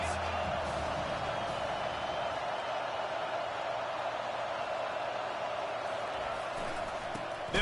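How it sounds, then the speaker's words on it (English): A stadium crowd roars for the defense on a big third down in a college football video game between Arkansas and Clemson, a constant broad wash of cheering under a commentator's voice. "Big third down as the crowd gets behind this defense."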